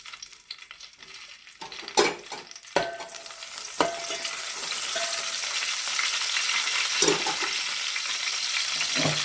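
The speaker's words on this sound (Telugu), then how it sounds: "ఇప్పుడు పచ్చిమిరపకాయలు వేసుకుందాం" Green chillies drop into hot oil for a fish curry: a few sharp knocks and clatters, then a rising, steady sizzle that fills the rest, close with no talking.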